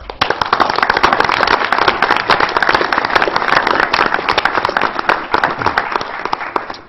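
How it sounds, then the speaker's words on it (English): Applause at a university system board of regents meeting for staff and faculty, with dense, crackling clapping that holds steady and loud throughout, close and alone without speech. "I'd like to extend a round of applause for all of our staff and faculty"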